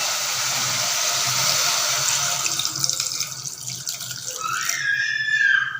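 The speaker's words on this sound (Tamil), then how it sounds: "இப்போ வந்து மட்டன் முருகிற அளவுக்கு இதில் தண்ணி சேர்த்துக்கலாம்." Water streams from a tap or vessel into a cooker pot of mixed mutton for uppu kari, a continuous gushing pour that shifts in pitch as the pot fills, then ends in splashes.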